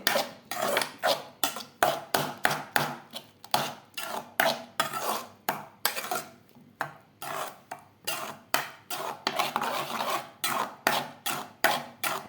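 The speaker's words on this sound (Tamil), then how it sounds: "இங்கே பாருங்கள், இப்படி நல்லா கலக்கிக்கலாம்" Brain omelette mixture being whisked in a bowl, a fast run of rhythmic scraping strokes that repeat steadily and close up, with no talking.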